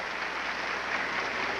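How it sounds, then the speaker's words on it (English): Brief round of applause from spectators at an athletics event at the 1986 Goodwill Games in the Soviet Union, a steady even patter of many hands clapping from a distant crowd with no voices over it. "A brief round of applause."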